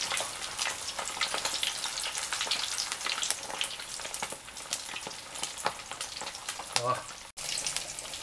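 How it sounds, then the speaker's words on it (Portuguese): A rolled pork belly, torresmo de rolo, deep frying in hot oil, giving a dense, continuous crackling sizzle with sharp pops, close and fairly loud. "Vamos deixar fritando, pururucando."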